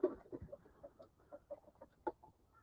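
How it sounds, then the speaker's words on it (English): A 13-year-old rooster clucks in a chicken pen, a series of soft, close, irregular clucks spread across a couple of seconds. "Chico, 13-year-old rooster."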